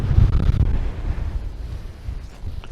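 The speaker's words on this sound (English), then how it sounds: "I've tried to turn out of the wind because it is absolutely crazy" Strong gusting wind buffets the microphone outdoors in an open field, a loud, close, low rumbling roar that swells and eases without pause.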